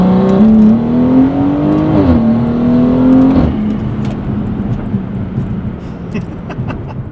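A Gen1 BMW B58 turbocharged engine revving hard with rolling anti-lag, a loud droning note that climbs and dips, then breaks into rough crackling pops and bangs as it settles.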